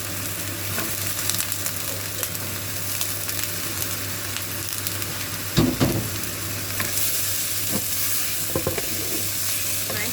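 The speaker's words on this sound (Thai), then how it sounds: "แล้วเราก็จะใส่มะเขือลงไปผัดค่ะ" Eggplant being stir-fried in a pan with seasoning sauce gives off a steady close sizzle, broken by a few louder scraping stirs and clatters. The clip carries no talk.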